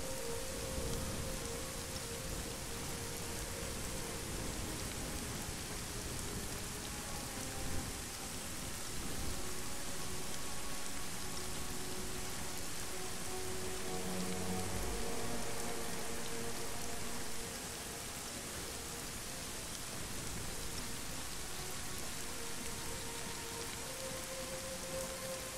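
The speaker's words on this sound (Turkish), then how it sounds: "Hava iyi yağıyor ya." Steady heavy rain in the video game Arma 3 pours without a break, a dense hiss with a low rumbling undertone that stays even throughout.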